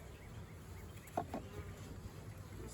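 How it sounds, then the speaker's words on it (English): Honey bees buzz in an opened hive, a steady low drone with a sharper buzz of a single bee flying close past partway through. "Besides some bees."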